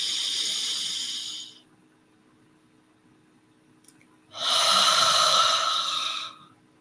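Breath drawn in through the nose during a guided breathing exercise, two long airy hissing inhales separated by a quiet pause, close and fairly loud.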